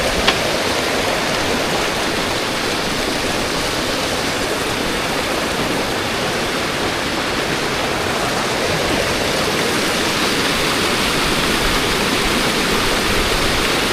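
A natural mountain river runs over unarranged natural stones on the slopes of Mount Slamet, a loud, steady, close rushing roar that carries on alone for the whole stretch.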